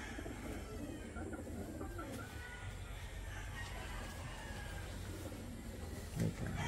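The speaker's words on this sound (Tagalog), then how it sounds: "Ice pigeon." An ice pigeon cooing close by in a loft, with soft low coos over a steady background hum and no talk.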